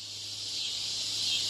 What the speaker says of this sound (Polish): teraz uwaga, czas na cykadę